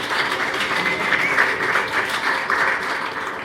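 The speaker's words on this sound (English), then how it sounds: "that was the last applause you're going to do to the end" Sustained applause from a talk show audience at the Australian Ambassador's Residence, dense steady clapping across the whole stretch with slight swells, no voices over it.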